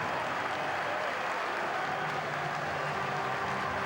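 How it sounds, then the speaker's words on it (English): A football stadium crowd applauds a goal by a striker on loan scoring on his home debut for Leicester City: a steady, broad wash of clapping and crowd roar that holds evenly throughout. "he's milking the applause here"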